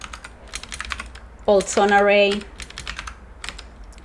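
Keys clatter on a computer keyboard in quick, uneven bursts of clicks during a live coding session, continuing under and around a person's speech, with a brief musical chime sounding partway through.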